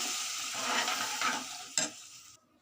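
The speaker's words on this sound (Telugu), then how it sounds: "ఇప్పుడు కొంచెం వాటర్ వేసుకోవాలండి." Water poured into hot masala in a pan for egg curry, a loud hiss and sizzle that swells, spikes briefly near the end, then cuts off abruptly.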